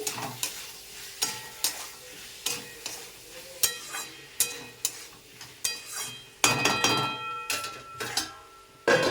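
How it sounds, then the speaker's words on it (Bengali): Potato and pea ghugni masala is stirred in a pan with repeated scraping and clinking strokes at an irregular rhythm over a soft background sizzle, close and moderately loud with no talking. "এবার আমি এটাকে নাড়াচাড়া করবো"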